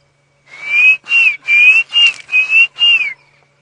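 A Klaas's cuckoo calls on an early-morning safari drive: six clear, whistled notes in a quick, even series, each slightly rising, loud and alone against a quiet background.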